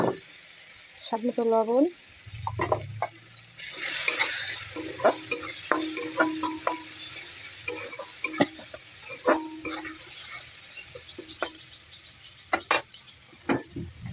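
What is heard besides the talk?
spice paste frying in a pan with turmeric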